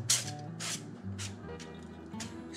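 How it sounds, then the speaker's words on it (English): Avocado oil spray can misting into an air fryer, four or five short hissing spray bursts in an uneven rhythm, close and clear, with no talk. "for the air fryer, we're just gonna add some avocado oil spray"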